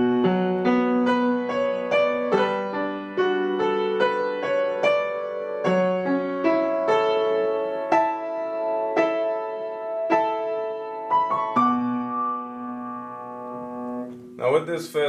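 Solo piano playing the opening part of the outro from a song, with steady chords and single melody notes struck in a slow, even rhythm, close and clear with no talking over it.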